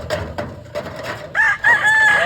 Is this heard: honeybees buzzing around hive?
no